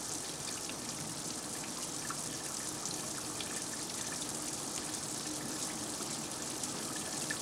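A water spray jet soaks Type A radioactive material transport packages during a performance test, making a steady, continuous rushing hiss with no voices.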